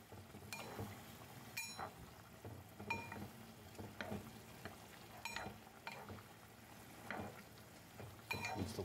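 A spoon stirs food in a cooking pan, with scattered scraping clinks and soft knocks over a quiet, steady frying sizzle, fairly close and alone.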